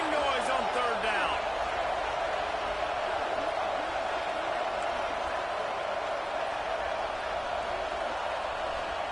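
A large stadium football crowd roars steadily during a third-down play, a dense continuous wash of cheering with no breaks across the whole stretch.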